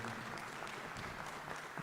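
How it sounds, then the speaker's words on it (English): Audience applause at the 7th General Assembly of the African Man and Biosphere Reserves Network in Rwanda, a steady dense clatter of many hands clapping throughout, with faint voices underneath. "Ladies and gentlemen, let's stand up and clap, clap, clap."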